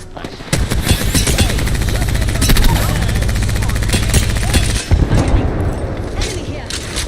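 Sustained rapid automatic gunfire in the Apex Legends video game, loud and close, with bursts and a brief gap, under game voice lines.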